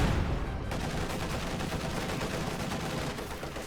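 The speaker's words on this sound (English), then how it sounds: "I also equipped the 50 cal machine gun on it, so it's just owning infantry" Sustained .50 cal machine gun fire mounted on a vehicle in Company of Heroes 2, a dense, continuous rattle of rapid shots, loud and close, with no pause over a few seconds.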